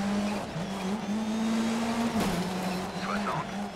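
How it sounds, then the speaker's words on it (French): A rally car engine in the video game Dirt Rally 3 drones at a steady high pitch, with brief shifts and skidding tire noise, fairly faint throughout. "Écoutez-moi ce moteur."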